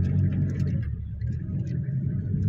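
An ATV or SUV ploughs through deep floodwater, a steady low engine rumble and churning water holding close and loud throughout with no pauses.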